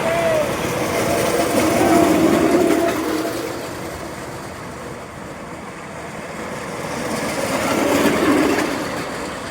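Railway inspection trolley cars pass one by one along a track at a new station, a broad rumbling roll that swells, fades slightly and swells again, with faint wheel squeal and a voice talking over it.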